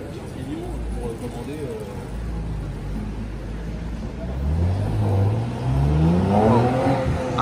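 Busy street traffic heard at night from inside a ride-hailing car, engines humming and rising as vehicles accelerate and pass, with someone speaking over the steady noise.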